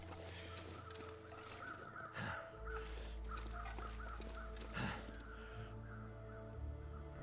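Crows cawing in the video game The Long Dark, a few harsh caws spaced out over a low ambient drone, moderately distant.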